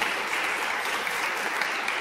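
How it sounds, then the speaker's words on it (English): An audience at a talk event applauding, a steady dense wash of clapping from many people lasting the whole moment, no talk. "Big round of applause."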